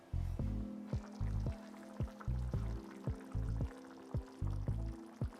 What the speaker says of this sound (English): We want to now sieve them, sieve the water